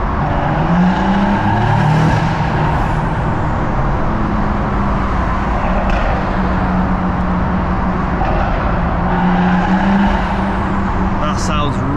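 A big-turbo BMW M140i with a screamer pipe drives through a tunnel, its engine a loud, continuous roar echoing off the walls with rising and falling tones, while people talk over it.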